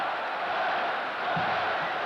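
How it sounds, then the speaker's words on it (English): A large arena crowd at the 1986 NBA All-Star slam dunk contest chants and roars for Spud Webb, a dense, steady wall of voices held at a constant level. "Let's see what happens as the crowd chants Spud."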